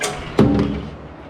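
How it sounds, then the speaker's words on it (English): A robot cabinet door swings open with a single close, dull thud midway, followed by a short fading resonance in an otherwise quiet space. "we're going to swing this door out of the way"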